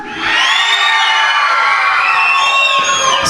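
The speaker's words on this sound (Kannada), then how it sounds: "ಜೋರ ಚಪ್ಪಳ ಮುಖಾಂತರ ಸ್ವಾಗತಿಸೋಣ ಅನುಷಾ ಅವ್ರನ್ನ" A large audience cheers loudly to welcome a performer at a dance event, a sustained roar of shouts and whoops from many voices, near and full, holding steady for several seconds.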